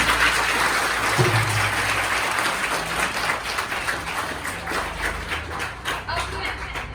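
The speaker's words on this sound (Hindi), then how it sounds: "सर के लिए जोरदार तालियां।" Loud, sustained applause from a large crowd at a government high school event fills the whole stretch, dense clapping holding steady before easing slightly toward the end.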